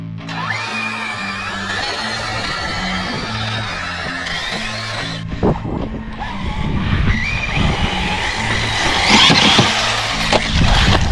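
An Arrma Typhon 6S BLX radio-controlled car running on a big 6S battery, its high-pitched electric motor whining and surging as it accelerates, with tyre noise and rising intensity toward the end, loud and close with no talking.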